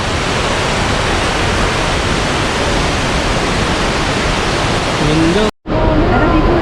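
Loud, steady roar of rushing water from Tappiya Falls in Batad, Banaue, Ifugao fills the scene, continuous and close, briefly cutting out near the end.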